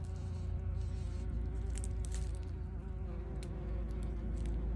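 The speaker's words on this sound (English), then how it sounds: "Here's some footage of some carder bees that I filmed the other day" Several carder bees buzzing steadily nearby, their drones overlapping in a constant hum with brief louder passes.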